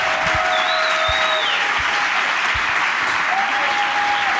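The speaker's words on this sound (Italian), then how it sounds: "Massimo Ceccherini, un applauso." Sustained audience applause for comedian Massimo Ceccherini, a dense, steady wash of clapping at close range with a few whistles cutting through and occasional low thumps.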